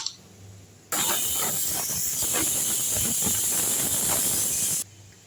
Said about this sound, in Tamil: நாலு விசில் வந்துடுச்சிங்க ஆஃப் பண்ணிடலாம்